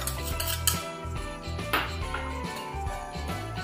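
Baking soda and baking powder mixed in a bowl for chocolate cookies, with utensil clinks and scraping against the bowl over continuous background music, close and moderate.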